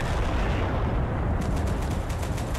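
Dense gunfire and artillery shooting in the war game Total Conflict Resistance, a continuous loud barrage of overlapping shots and booms with rapid bursts toward the end.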